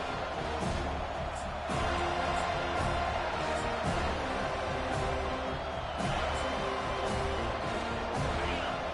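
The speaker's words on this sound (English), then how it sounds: "This crowd bringing an ear-splitting welcome to their visitors" A stadium crowd at a televised football game keeps up a loud, continuous roar and cheer, with a commentator's voice running over it.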